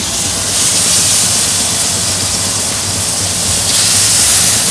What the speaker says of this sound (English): I'm using peanut oil. And then we'll just go ahead and probably put two in at a time.